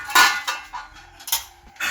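A spoon stirs masala asparagus curry in a pot, scraping and clinking against the metal in a few separate close, bright strokes with short pauses between.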